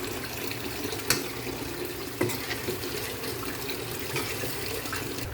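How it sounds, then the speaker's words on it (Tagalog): Soy sauce pours into a pot of chicken adobo, a soft liquid trickle under faint background noise, broken by two light knocks of the bottle or spoon against the pot. "Lagyan na rin natin yung ating toyo."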